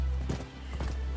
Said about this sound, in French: ce qu'on va faire, c'est qu'on va appeler le cheval